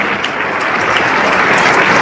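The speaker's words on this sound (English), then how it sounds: "Oh my God, enough with the clapping." Dense, continuous clapping from a big crowd at a State of the Union address, steady and loud throughout the short stretch.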